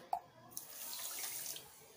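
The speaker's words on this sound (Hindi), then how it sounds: "अब हम इसी मेजरमेंट से एक कटोरी इसमें हम पानी डाल देंगे।" Water poured from a bowl onto sugar in a pan to make syrup, a soft splash and trickle after a small clink, fairly faint and close.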